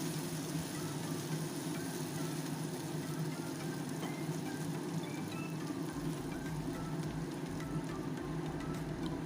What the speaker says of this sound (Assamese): এনেদৰে লৰাই লৰাই ভাজি থাকিম যাতে পেনখনৰ তলত লাগি নাযায়।